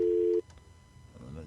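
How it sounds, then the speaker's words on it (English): A steady telephone tone hums loud and alone for under half a second, then stops abruptly, leaving quiet room noise and the start of a voice. "Getting the dial tone."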